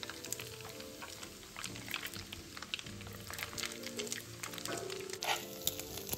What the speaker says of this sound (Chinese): 接着再将沥干水分的姜鱼子放入锅内，油炸至金黄色。